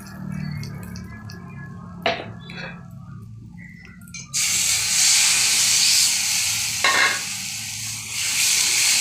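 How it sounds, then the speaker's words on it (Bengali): A little water poured into a hot pan of onion paste and oil, bursting into a loud, sustained steam hiss that continues steadily after a quieter stretch of light sizzling and a couple of brief scrapes. "অল্প একটু জল দিয়ে দেবো।"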